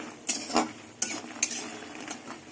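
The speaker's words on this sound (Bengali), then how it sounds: "বড়িগুলো লাল লাল করে ভেজে নেবো" Bori lentil dumplings fry in hot oil for a light drumstick curry, with a soft steady sizzle broken by several sharp clinks of a utensil stirring against the pan, close and alone.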